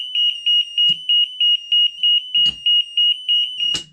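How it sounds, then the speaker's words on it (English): Alarm of a three-door interlock system with magnetic door locks: a loud electronic beeping in a fast, even pulse of about three beeps per second, with a few clicks and thumps between beeps and no talk. "the system has gone into alarm and you cannot get out any of the doors"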